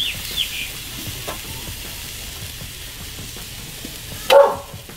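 Steaks and shrimp sizzle on a charcoal grill in a steady, even hiss, with a sharp metallic clank from a flip near the end.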